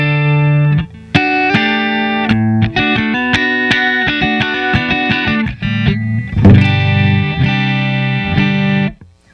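Dry, unaffected tone of a Paul Reed Smith Hollow Body I with spruce top, run through an Empress compressor, Pod HD 500 amp modeler and BBE Sonic Stomp, playing clear sustained chords and picked notes alone, close and steady.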